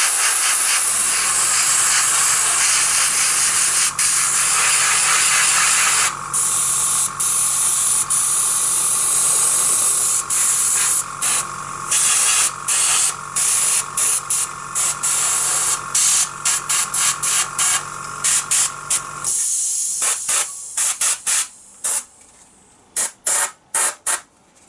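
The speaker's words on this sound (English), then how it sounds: "while I've got the airbrush here, I'm going to put a little bit of black on these boards and on the roof as well" An airbrush sprays black paint onto model buildings in a steady close hiss for about twenty seconds, then breaks into short on-off bursts as the spraying winds down.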